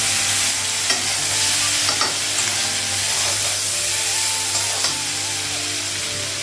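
Cabbage cooks in a pan with turmeric, salt and cumin, giving a steady soft sizzle with occasional stirring scrapes and clinks of a spatula, close and continuous with no talking.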